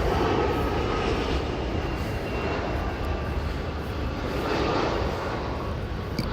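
An airplane flies low near an airport landing strip, a loud continuous engine roar and rushing noise that holds steady throughout, heard outdoors without talk.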